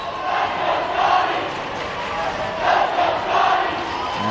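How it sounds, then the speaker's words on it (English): A live varsity boys basketball crowd in a high school gym during a regional quarterfinal roars steadily, with swelling waves of cheering and shouting filling the arena throughout. "that Scots crowd is live on the far end of the court"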